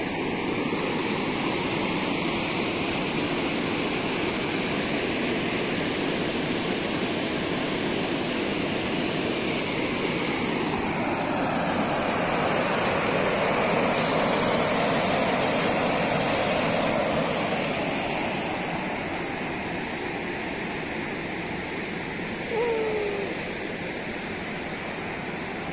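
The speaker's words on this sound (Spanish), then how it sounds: "Está impresionante esta caída de agua." Water pours over the dam at La Tigrilla in Chiapas, a steady, loud broadband roar that holds unbroken for the whole stretch, with no voices over it.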